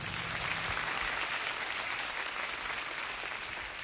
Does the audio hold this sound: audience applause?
yes